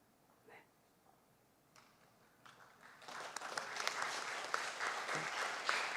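A church congregation at a Wednesday worship service breaks into applause, starting quietly and swelling into steady clapping over the last few seconds.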